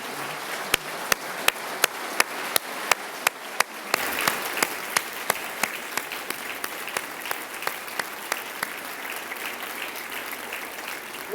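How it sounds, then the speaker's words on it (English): Steady audience applause fills a large hall during a state of the state address in Ohio, with sharp repeated clicks running throughout and the clapping swelling louder partway through before holding at an even level. "let's give him a round of applause as well"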